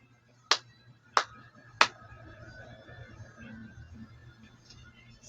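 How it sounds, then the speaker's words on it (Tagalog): Three sharp, evenly spaced claps from a class in a Filipino elementary lesson, bright and close, followed by a low hum and faint room noise with no talking. "Bigyan ng iyong sarili ng 3 palakpak."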